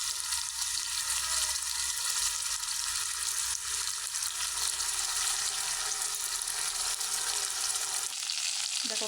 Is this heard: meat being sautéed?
yes